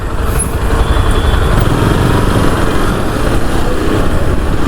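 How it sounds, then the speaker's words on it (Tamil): Dense early-morning city traffic in Chennai heard from a moving motorcycle: a continuous low engine rumble and road roar with truck and bus noise around, steady and loud with no talk. "மார்னிங் 6 o'clock பாருங்கள் எவ்வளோ டிராஃபிக்காக இருக்குது பாருங்கள்."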